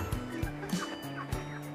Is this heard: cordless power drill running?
no